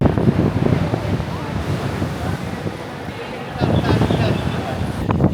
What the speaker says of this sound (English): And the waves are a whipping today.